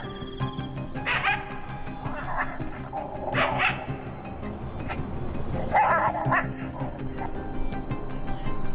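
Professionally trained hunting dogs track and drive away wolves, barking, yipping and whimpering in repeated bursts at mid distance over a busy, continuous outdoor background.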